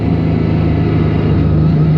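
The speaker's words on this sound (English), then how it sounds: "it still has some of that drivetrain noise and the engine noise coming through the cabin" Sports car engine and drivetrain in track mode, a loud, steady low mechanical drone with a throbbing rumble heard from inside the cabin, brief and continuous with no talking.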